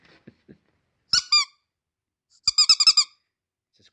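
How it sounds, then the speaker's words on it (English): A rubber shark squeaky toy is squeezed, giving a short pair of high-pitched squeaks, then after a pause a quick run of five or six squeaks, close and clear over faint soft taps. "It's a squeaky toy."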